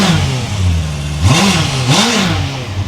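Honda CBR650R motorcycle engine close by, idling and then revved twice to about 6,000 rpm, two quick rising blips in succession.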